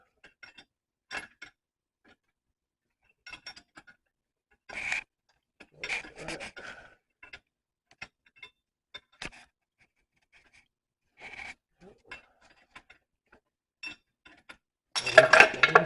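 A ratchet wrench clicks in short, scattered rasping bursts during work on a 2008 Jeep Wrangler with a bad pilot bearing, with quiet gaps between strokes and a denser, louder burst at the end.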